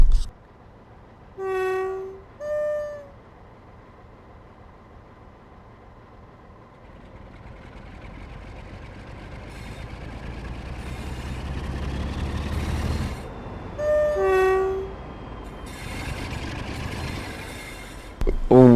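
Class 47 diesel locomotive in Train Sim World, backing out of Selhurst Depot: two horn blasts, a steadily building engine rumble, then two more horn blasts, loud and close with no talk.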